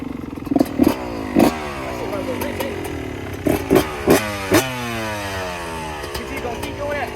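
A dirt bike engine revs and winds down close by as the rider brakes to lock up the wheel, with short sharp bursts of clatter scattered through, and people talking between the revs.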